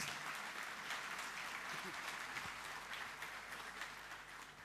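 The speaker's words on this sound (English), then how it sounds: "Ladies and gentlemen, big round of applause for the chairman" A large audience at a corporate excellence day event claps for the chairman, a steady dense wash of applause sustained throughout, easing slightly toward the end, with faint voices murmuring underneath.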